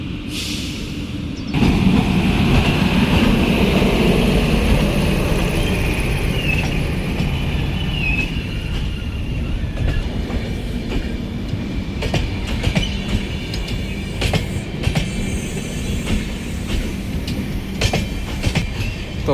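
A train passes close by at a rail crossing gate, preceded by a quieter lead-in, then a loud, sustained rumble of wagons with clickety-clack wheel beats and occasional squeals, no voices.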